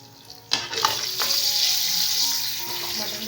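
Mutton with garlic-ginger paste sizzles and fries loudly in a pan, starting with a sharp burst as it goes in and then holding a steady hiss with stirring scrapes throughout.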